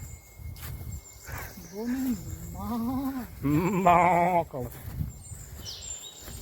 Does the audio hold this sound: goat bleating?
yes